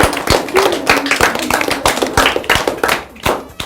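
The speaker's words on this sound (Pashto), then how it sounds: "چکچک ورته وکړي" Hands clap in a quick, uneven run of sharp, close claps that carry on steadily with no pauses, as an audience applauds during a children's Eid special show.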